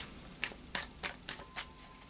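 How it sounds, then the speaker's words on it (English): A Lightseers Tarot deck being shuffled in a quiet room, heard as about six short, crisp papery riffle bursts spaced roughly evenly, fairly close and alone with no talking. "Final shuffle of the Lightseers Tarot,"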